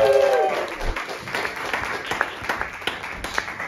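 Applause for a stand-up comedian taking the stage, scattered claps from a modest audience thinning into individual hand claps, with a brief vocal sound at the start.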